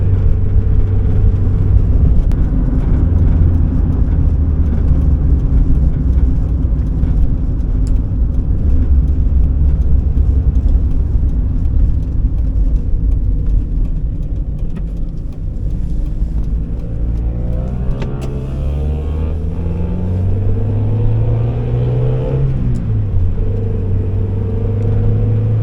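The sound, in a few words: 1991 Mazda Miata driving, engine running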